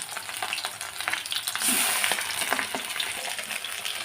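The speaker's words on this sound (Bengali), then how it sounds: "এখন ভাজবো আপনার মাছ ভাজতে গেলে খুবই ফোটে" Pabda fish coated in cornflour fry in hot oil, crackling and spattering busily with dense popping over a steady sizzle.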